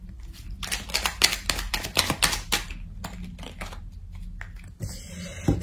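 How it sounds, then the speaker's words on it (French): Cards from a small oracle deck are shuffled and drawn, producing a rapid run of crisp, close paper flicks and snaps, loud and clattery at first, then sparser taps near the end. "on va prendre une carte du petit oracle de l'intuition"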